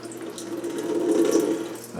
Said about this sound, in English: I have it on a draining mat there so the whey will drain down into the sink